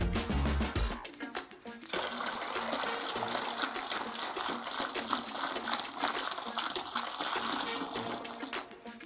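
Many fizzy drinks, including Borjomi and lemonade, are poured together into one container, giving a loud continuous gushing splash with bubbling fizz after a brief opening clatter, close and unbroken.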